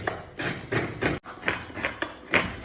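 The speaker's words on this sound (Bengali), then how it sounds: "এবার নারকেলটা কুড়ে ফেলি।" A coconut is scraped by hand, with about eight rhythmic rasping strokes, each one a crisp, fairly close scratch, with a brief gap partway through.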